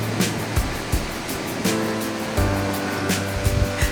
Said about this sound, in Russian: Рядом бурная река